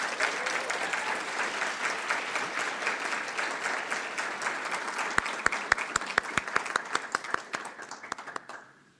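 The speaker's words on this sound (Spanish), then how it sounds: "un fuerte aplauso," An audience applauds a guest speaker at a history talk about Pancho Villa, a full round of many hands clapping that gradually thins to a few distinct, sharp claps before fading out, with no speech.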